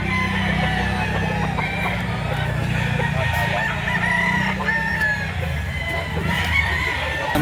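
Roosters and other fowl at a busy chicken market in Lipa City, Batangas, crowing and clucking steadily under a dense crowd murmur, with nearby voices talking throughout.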